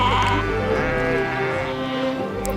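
Hundreds of dairy sheep in Ladakh bleat loudly and continuously before milking, overlapping calls from many animals forming a dense, close chorus.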